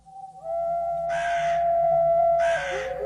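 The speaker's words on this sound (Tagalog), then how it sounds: "yung huni ng ibong wakwak paulit-ulit" An eerie wakwak bird call sounds nearby in Capiz, Philippines: a sustained tone bending in pitch with two harsh, raspy bursts, against a quiet low hum.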